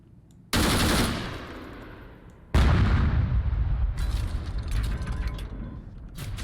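Tank main gun firing in ARMA 3 with the CSLA Iron Curtain DLC: two heavy, sharp blasts a couple of seconds apart, each with a long decaying rumble, followed by mechanical clanks and creaks of the reloading breech.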